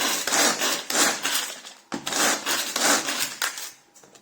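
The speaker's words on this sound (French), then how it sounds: "je verse mes noix de pécan dedans et je vais les hacher" A hand-cranked chopper works through pecan nuts in rhythmic bursts of woody, gritty crunching and rattling, repeated strokes close up with brief pauses between, no voices.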